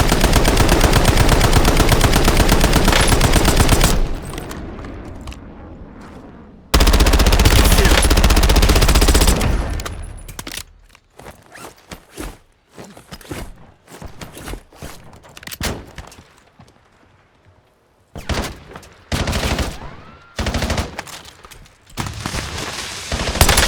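Loud gunfire in a video game firefight: dense, sustained bursts of automatic fire, then a lull of scattered single shots and sharp cracks, with more heavy volleys after it.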